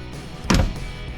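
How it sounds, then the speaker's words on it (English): A 1940 Buick Super's door shuts with a single solid, low thud, close and brief, with a faint rattle after the impact and no talking. "Doors shut very nice."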